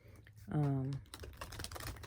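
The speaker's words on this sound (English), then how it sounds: "Just want to make sure I'm shuffling this the right way." Crisp, rapid shuffling of tarot cards, a dense patter of soft flicks preceded by a brief voiced sound.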